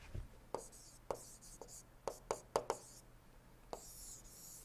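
Chalk or marker writing on a board during an engineering lecture, a series of sharp taps and scratchy strokes in irregular rhythm, fairly faint in a quiet room.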